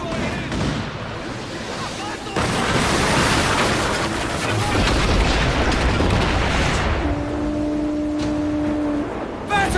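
Ship cannons in Assassin's Creed Black Flag roar in a sustained naval barrage, heavy booms and crashing blasts layered densely over several seconds, loud and close, with a low horn-like tone near the end.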